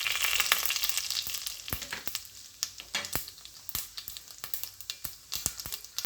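Mustard seeds and cumin crackle and sizzle in hot oil for beetroot greens rice, giving a steady frying hiss broken by many sharp, close pops in an irregular, busy rhythm, with no talking.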